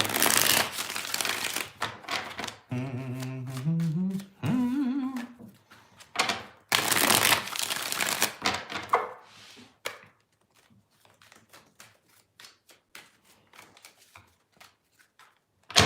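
Tarot cards riffled and shuffled in bursts of rapid crisp flutters, repeated several times, with quieter tapping and shuffling in between and a brief hum-like voice.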